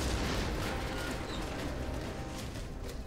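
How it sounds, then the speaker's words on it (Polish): A loud, rumbling blast with dense low-end crackle sustains throughout, an explosion in the video game XCOM: Long War, with no voices. "To wybuchło."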